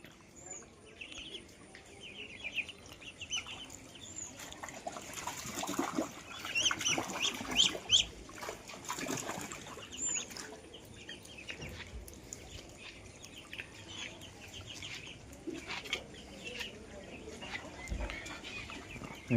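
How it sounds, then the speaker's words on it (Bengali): Khaki Campbell ducks on a farm floor, a flock giving scattered quacks and calls throughout, moderately near, with faint background talk at times. "এই যে খাকি ক্যাম্পেলগুলা"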